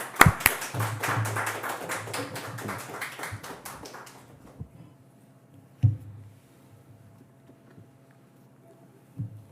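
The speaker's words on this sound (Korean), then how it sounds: "박수로 환영하겠습니다" Applause greets a speaker coming forward at a children's faith lesson in a church setting, with a burst of hand claps for about four seconds that then fades into quiet with a few scattered knocks.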